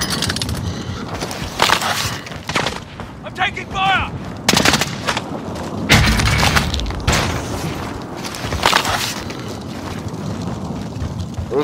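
Sniper gunfire in a video game: sharp, loud shots crack out repeatedly at irregular intervals over a constant rumble of battle noise, with no one talking.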